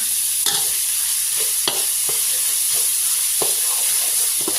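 Minced pork stir-fried with grilled shrimp paste in a hot pan: a loud, steady sizzle runs throughout, broken by sharp scrapes and taps of the spatula at irregular intervals, close up with no talk.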